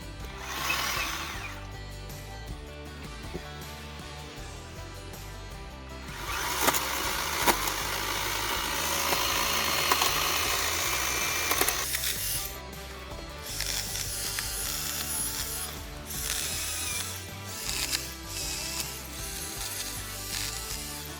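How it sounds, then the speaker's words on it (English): A small electric motor on a battery-powered chainsaw whirs and buzzes steadily, surging louder in the middle as it cuts brush, then settling back to a lighter hum. "It sounds more like a daiquiri maker than it does an actual chainsaw."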